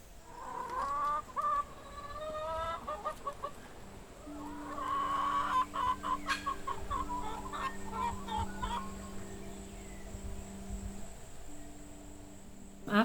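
Hens, called chooks, cluck and chatter close by, with a burst of louder squawking in the middle, then steady low clucking over a soft background hum.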